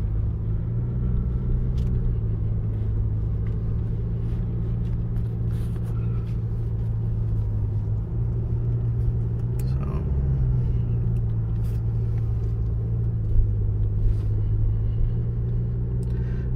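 A 2022 Toyota RAV4 Hybrid drives slowly over soft sand dunes at Oceano Dunes, its engine a steady low drone with a slight rise in pitch midway, tires slipping a little, heard from inside the cabin with no talk.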